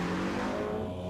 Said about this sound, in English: It's really hard for me to enjoy the sound of the engine with all that yakking.